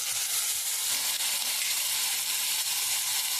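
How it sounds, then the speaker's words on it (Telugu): Eggplant and tomato pieces fry in a pan, giving a loud, even sizzle that holds steady throughout with no talking. "ఈ 2 కలిపి వేయించుదామండి."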